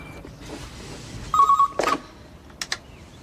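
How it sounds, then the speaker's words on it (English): An old-style telephone bell rings close by in a short electronic trill, followed by a couple of small clicks in a quiet room. "Mum, the phone's ringing."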